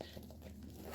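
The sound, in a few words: zipper on a bag being zipped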